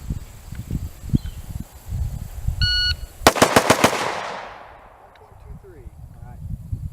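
An AXTS MI-T556 rifle fires a rapid string of loud, close shots that ring out into a fading echo, with a short electronic beep tone just before and muffled voices around it.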